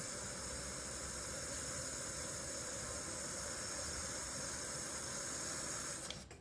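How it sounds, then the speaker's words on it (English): Steady broadband hiss of steam venting from a Russell Hobbs electric pressure cooker as it comes up to seal, continuous and fairly close, ending with a brief click near the end. "Not sure if the camera's picking up the steam"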